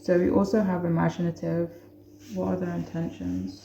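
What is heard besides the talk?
No everyday noises stand out.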